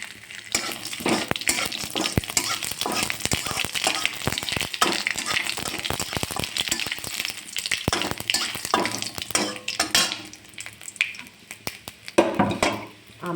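Mustard seeds, a dried red chilli and a bay leaf frying in hot oil in a kadai for Bengali dal, a loud continuous sizzle with sharp crackling pops and stirring throughout, no talk.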